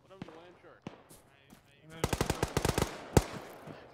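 Video game gunfire in Arma during a ShackTac squad match: rapid bursts of automatic fire crackle in quick succession, preceded by scattered single shots, with people talking over the action.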